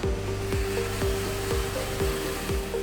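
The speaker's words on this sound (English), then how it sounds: "The welds are then polished." A steady motor whine with a sustained tone from welds being polished on lighting fixture brackets at a lighting factory, with a regular pulsing roughly twice per second and no talk.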